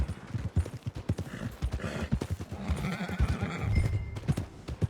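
Horse hooves clip-clopping at a steady trot in the Red Dead Redemption 2 video game, with a loud whinny rising over the hoofbeats midway, close and continuous.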